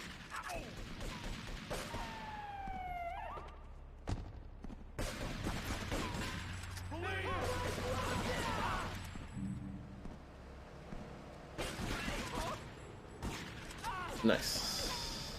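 Gunfire and other action effects in GTA III, scattered bursts and single shots among mechanical clatter and other game noise, fairly quiet, with gaps between the bursts.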